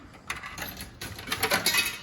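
Metallic clicking and clunking of a book vending machine's door lock mechanism, a couple of rattling latch sounds close by, with no talking.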